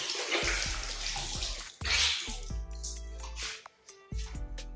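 Running water splashes over hands being rinsed during a hair wash, with irregular splashes and gurgles, a brief louder gush, then drips and short pauses, close and with no speech.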